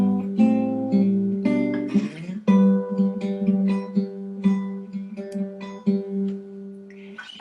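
Acoustic guitar picking a song, a clear close melody of plucked notes over a ringing bass line, played solo without voices.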